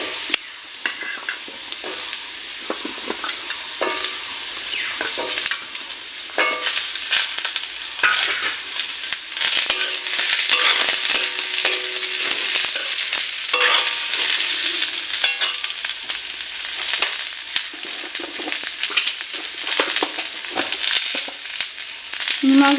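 Eggplant sizzles in a hot pan with fried potatoes, a spatula stirring and scraping steadily for over twenty seconds, the frying crackle loud and close with no talking.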